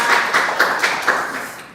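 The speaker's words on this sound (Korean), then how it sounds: "박수로 부탁드립니다." Audience clapping to welcome a lecturer at an education office humanities seminar, a short burst of scattered, fairly light claps with a few distinct hand strikes, moderately close.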